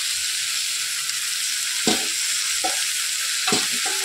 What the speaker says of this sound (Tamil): சேர்த்துட்டு நல்லா வதக்கி விட்டுருங்க.